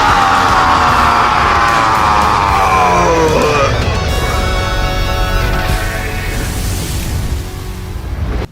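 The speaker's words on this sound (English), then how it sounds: "that scream was immaculate!" An animated character in a Thor versus Vegeta Death Battle lets out a long, loud, drawn-out scream that rises and wavers for several seconds and then fades into crashing, roaring action noise.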